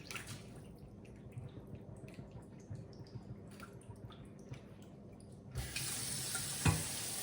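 Tap water runs into a cooking pot in a home kitchen, a soft trickle at first, then a louder steady gush that carries on to the end.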